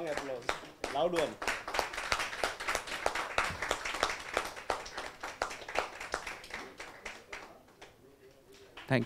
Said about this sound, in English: Please, a strong applause. Loud one.